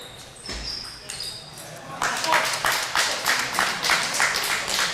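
The Husky cheering squad claps in quick, rhythmic bursts at a college coed team table tennis final, loud and close after a quieter opening with faint ball taps, while a commentator talks.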